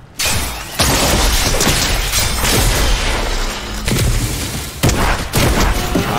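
Gunfire and explosions in the Fortnite video game make a dense, loud, continuous barrage of booms, cracks and crashes with sharp bursts throughout and no talking.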